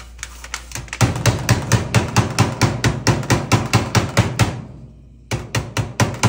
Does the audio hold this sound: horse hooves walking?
no